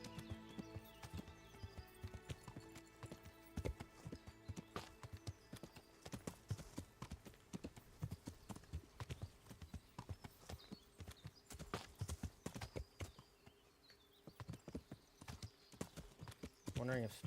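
Horse hooves clip-clop on a road in the video game Kingdom Come Deliverance, with irregular, fairly faint steps and a whinny near the end. A person talks over the hoofbeats.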